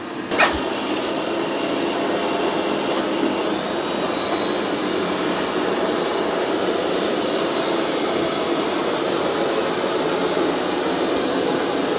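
A Eufy X10 Pro Omni robot vacuum running on carpet with mop pads raised and suction increased, a loud continuous whirring drone that stays steady throughout, with a brief click near the start.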